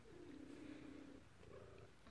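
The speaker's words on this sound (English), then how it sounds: "What a lovely purr." A pet cat purrs softly and steadily at close range, a low continuous rumble with no talking over it.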